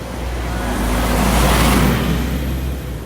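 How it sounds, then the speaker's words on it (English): Steady city traffic near Pamplona on a pilgrim's walking route, cars and buses rolling past close by as a loud continuous roar that swells briefly in the middle, no voices. "it's a town, it's a city with cars and all the bits and pieces, buses,"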